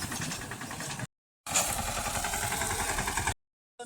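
Mini tractor engine running in a wheat field, a steady close chugging drone in two stretches separated by brief gaps of silence.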